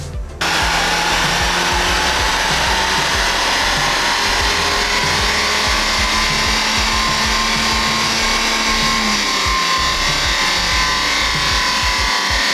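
A car engine runs hard on a rolling road dyno, a loud steady roar with a faint rising tone that holds almost the whole time after a sudden start, with no talking.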